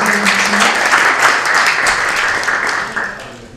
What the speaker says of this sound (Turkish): Alkış istiyoruz.